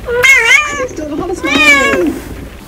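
A house cat meows twice at close range, each cry long and drawn out, with a short pause between them.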